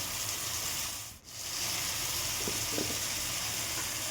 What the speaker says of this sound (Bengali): শাক দেওয়ার পরে বেশিক্ষণ ভাজা যাবে না, অল্প সময় ভেজে নামিয়ে নিতে হবে